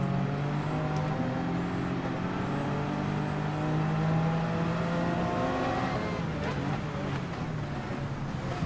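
A race car engine in a racing video game holds a loud, sustained tone that shifts pitch through gear changes, with another engine note rising faintly behind and no clear speech.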